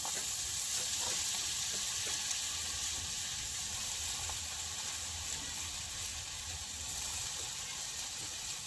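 Susuni greens stirred in a hot pan give a steady, close sizzling hiss that holds at an even level throughout, with no talking.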